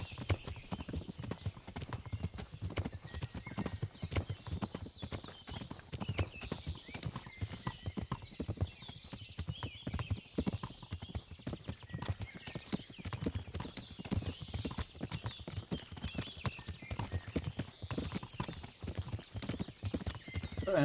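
Horse hooves clip-clop steadily while riding in the video game Kingdom Come: Deliverance, a fast continuous gait heard close and clear for the whole stretch, with a brief whinny and little talk.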